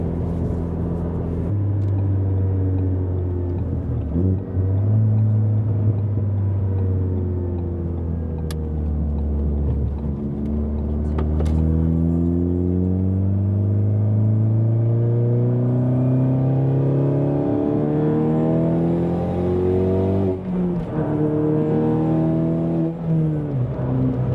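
A car fitted with a big turbo accelerates hard and runs fast. The engine drone climbs steadily through the gears, close and loud, with no break for the whole stretch.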